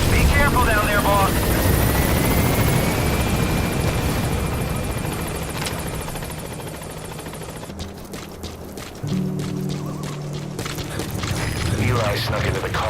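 A helicopter in the Metal Gear Solid V video game thrums loudly and continuously, its rotor chop growing rhythmic and choppy in the second half, with background game sounds mixed in.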